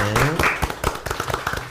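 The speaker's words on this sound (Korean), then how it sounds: "오늘 수고하신 분들 위해서 다시 한번 박수해 주시기 바랍니다" A church congregation at Gangnam Central Baptist Church claps during a new sanctuary building briefing, a short burst of scattered hand claps beneath a voice speaking over it.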